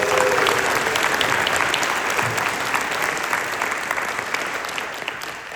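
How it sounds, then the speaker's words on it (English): Another round of audience applause at a naval weapons station ceremony after the national anthem, a full steady wash of clapping that slowly thins and fades toward the end. "Let's give her another round of applause."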